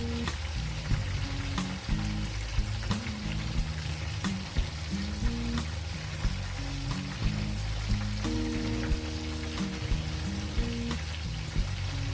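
Tilapia fish fries in hot oil with a steady, dense sizzle and scattered sharp crackles, close and continuous, with no voices.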